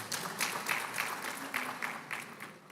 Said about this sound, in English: I would like us to give him a round of applause.